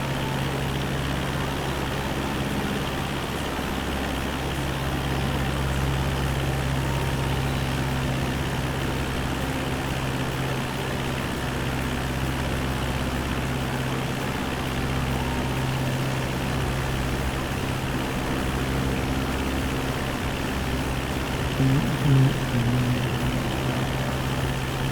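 A Cessna aircraft engine in Microsoft Flight Simulator 2024 drones steadily and loudly for the whole stretch, an unbroken propeller hum with no pauses.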